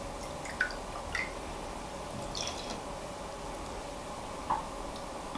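Water is poured into a cup for hot chocolate: a steady, soft hiss of flowing liquid runs throughout, with a few small drip-like plinks near the start and end, and no talking.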